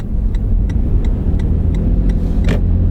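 Cabin noise inside a moving Toyota as it turns, a steady low road and engine rumble with faint regular ticking, likely the turn signal, and a brief brighter swish near the end.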